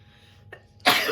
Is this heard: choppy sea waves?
no